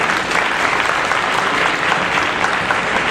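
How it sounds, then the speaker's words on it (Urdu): An audience claps at a comedy stage event, a dense, steady wash of applause that fills the whole moment without a break and with no clear voices over it. "تالیاں بجا دیں، پہلے ہی بجا دیں."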